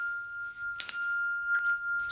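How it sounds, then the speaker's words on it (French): Fuzeau tuned bell shaken like an ordinary handbell, ringing a clear sustained tone with two or three short jingling strikes, close and fairly loud. "soit comme une cloche normale en la secouant"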